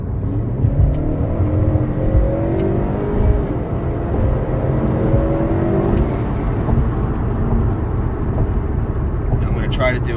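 A 2018 Honda Accord 2.0t with a K&N intake, running a JB4 tune, pulls hard under acceleration, its engine note rising steadily and loud from inside the cabin with road and wind roar beneath.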